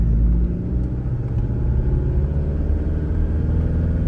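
A Mitsubishi Delica L400 van pulling away smoothly, its engine a low steady rumble heard from inside the cabin, continuous and fairly loud with no talk.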